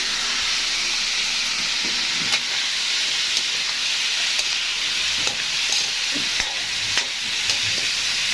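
Ingredients sautéing in a pan for a duck dish give off a steady, close sizzle and hiss, broken by a few soft clicks and stirring knocks.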